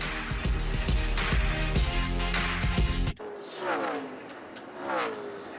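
NASCAR Xfinity Series stock cars race at Las Vegas Motor Speedway, a loud roaring engine blaring for about three seconds before cutting to a quieter stretch where cars whoosh past with rising and falling engine tones.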